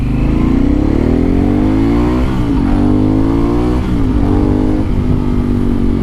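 A BMW R1250 GSA motorcycle's 1,250cc engine revs loud and close, pitch climbing and dipping in repeated throttle blips to keep it from stalling on a shallow clutch during take-off.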